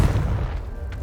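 Confringo blasting spell from Hogwarts Legacy striking a pile of debris, a dense low boom with rumbling crackle that sustains loudly for about a second with no voices.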